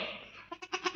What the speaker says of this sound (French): le petit appelle la maman, hein, c'est normal